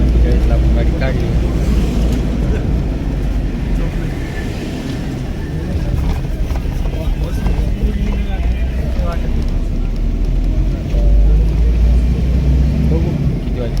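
A Force Cruiser AC vehicle drives on the road from Indore toward Maharashtra, giving a steady, close low rumble of engine and road noise with wind buffeting throughout.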